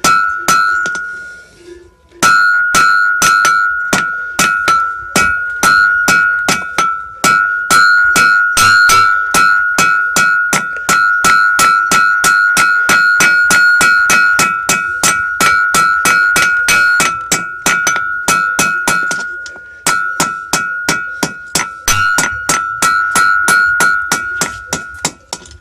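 A blacksmith or farrier hammers hot iron with the hammer tilted the other way, giving a steady run of loud, ringing metallic strikes with a sustained bell-like tone, the blows fast and regular with a short pause midway.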